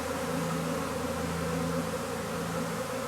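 A dense swarm of honeybees buzzes at a hive entrance after bad weather, a loud, close, continuous drone with no pauses and no talking.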